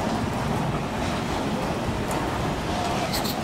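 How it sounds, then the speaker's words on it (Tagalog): Strong waves pound the shore during a typhoon, a steady, loud roar of surf with wind buffeting the microphone throughout and no voices. "Grabe, sobrang lakas ng alon."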